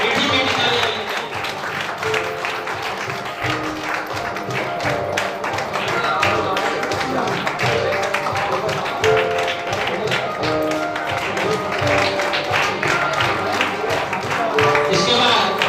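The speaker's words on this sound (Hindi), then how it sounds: "जबरदस्त आएगा तालियां रुकनी नहीं चाहिए, मीठी मीठी तालियां लगनी चाहिए।" Audience applause at an achievers celebration: steady, loud clapping from a large crowd continues throughout, with a busy, crowded room sound.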